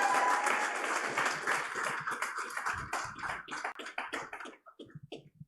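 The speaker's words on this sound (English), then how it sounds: "I want to hear another round of applause for Algatex" Small audience applauding at a biotech startup showcase, dense clapping at first that thins into scattered individual claps and fades out by the end.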